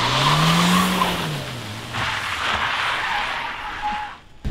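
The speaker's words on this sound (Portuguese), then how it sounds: "Saiu cantando pneu totalmente" A Chevrolet Cruze Turbo with stability control switched off pulls away hard, its tires squealing loudly in a long wavering screech over engine noise, then fading before an abrupt cut.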